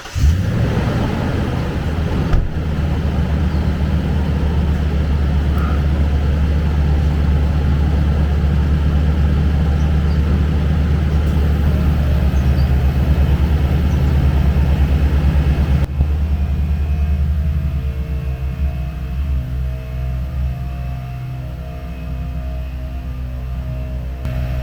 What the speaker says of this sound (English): I'm going to go ahead and start my truck and hook this up and we'll see how long it takes.